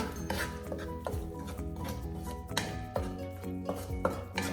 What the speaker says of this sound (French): je verse le lait de coco. Je mélange bien.